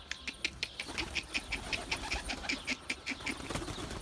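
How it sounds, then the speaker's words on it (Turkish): Domestic pigeons move about and flap their wings in a backyard loft, with a rapid series of close, rhythmic flutters and a few soft coos and rustles. "Güvercinlerimizin yanına geldik şimdi."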